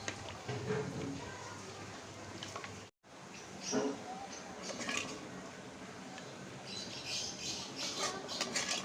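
Beef cooked on a clay stove is moved from the cooking vessel into another pot, with scattered metallic clinks and scrapes of utensils against the pot, fairly close, and a voice speaking over parts of it.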